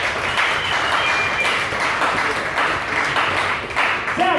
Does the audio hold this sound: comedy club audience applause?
yes